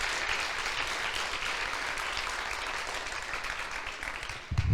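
A church congregation claps together in sustained, dense applause that stays steady and full for several seconds before tapering slightly, with no voices standing out.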